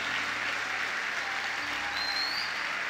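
A church congregation applauds during a sermon, producing a dense, even roar of many hands clapping at once at moderate distance, continuous throughout with no voices over it.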